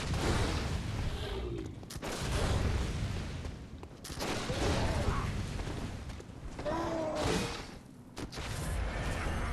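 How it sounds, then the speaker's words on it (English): Enemy gunfire in the video game Bloodborne comes as bursts of booming shots and impacts, repeated several times in surges with quieter gaps between, mixed with game effects. "Stop with the shooting!"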